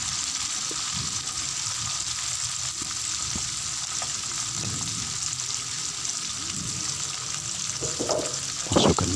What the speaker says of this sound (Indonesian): Masukkan terlebih dahulu cabai hijaunya, tumis dulu cabai hijau agar tidak